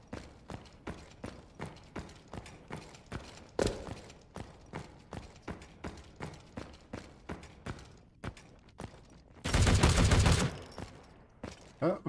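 Gunfire in the video game War Gun: a steady run of sharp shots at an even, quick rhythm, then a dense, loud burst of rapid fire near the end, with no talking.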